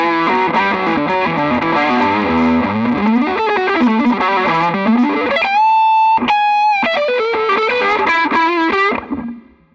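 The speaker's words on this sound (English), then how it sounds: "That's a lot of distortion, but it's not, it doesn't sound muddy." A Carvin FG1 electric guitar plays a fast run through heavy distortion, the notes clear and sustained, with a few held bends and chords before the sound fades out at the end.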